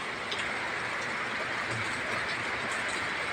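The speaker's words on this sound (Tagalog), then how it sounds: "dito pasilong muna habang malakas ang ulan" Continuous heavy rain, a dense steady hiss of drops with a faint rhythmic ticking underneath.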